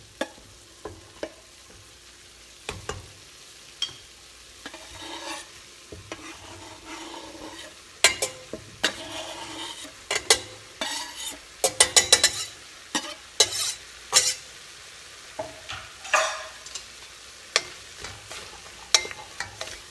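Onions and garlic sizzle gently in a pan while being stirred, with clattering utensil scrapes coming in irregular bursts, busiest in the middle, over a quiet frying hiss.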